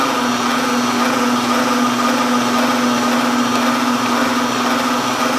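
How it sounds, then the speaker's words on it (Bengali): An electric mixer beats butter for orange buttercream, giving a steady, loud, unbroken motor whine with a fixed hum that runs the whole time, with no voices. "বাটার অল্প অল্প করে দিয়ে দিচ্ছি আর বিট করছি"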